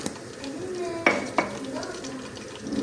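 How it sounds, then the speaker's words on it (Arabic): Cardamom pods frying in vegetable oil in a cooking pot, with a soft steady sizzle and two sharp metallic clinks of a utensil against the pot partway through. "بحب قلي كم حبة من الهيل"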